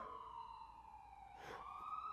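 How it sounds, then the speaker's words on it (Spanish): Ambulance siren sound effect, a short wailing tone sweeping up and down, steady and fairly faint across two seconds, alone without any talking. "Va a tener que llamar una ambulancia, don Jerónimo."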